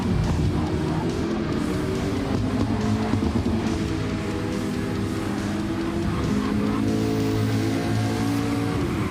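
The McLaren race car screams around Suzuka in Gran Turismo 7, its engine note holding a loud, steady howl for several seconds, with harmonics rising and falling through the gears and no one talking over it.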